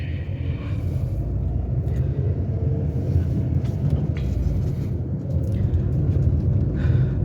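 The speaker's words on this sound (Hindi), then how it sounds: "सबसे पहले इग्निशन लेते हैं और गाड़ी को मूव करना स्टार्ट करते हैं।" A car's engine idles and then pulls away on an open road, heard as a steady, close low rumble throughout with no talking.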